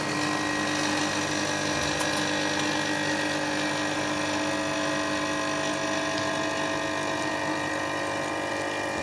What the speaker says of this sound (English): we start here with the espresso with the small vibration pump